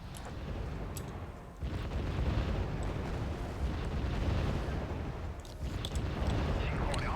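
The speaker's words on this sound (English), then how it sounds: "My mortars missed." Mortar rounds exploding in the real-time strategy game Wargame: Red Dragon, a continuous rumbling barrage of booms with sharper bursts near the start, around the middle and toward the end, loud and sustained throughout.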